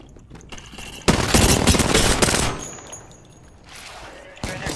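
A firefight in Apex Legends: dense bursts of rapid gunfire, loud and close, then a pause and another burst near the end, with someone talking over it.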